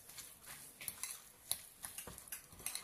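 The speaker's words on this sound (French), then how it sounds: "Donc on mélange correctement" A utensil mixes a filling in a bowl, with light scraping strokes and small clinks repeating irregularly at close range, quiet overall and without speech.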